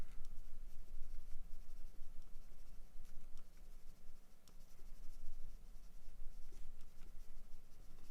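Pencil scratching and scribbling on paper while shading a misty tree drawing, a steady close scratchy texture with short strokes, heard alone without talk.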